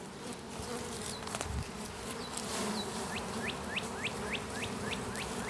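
Swarm of honeybees hums in a steady, close drone around an opened beehive being split outdoors, with a few short chirping sweeps rising over the buzz.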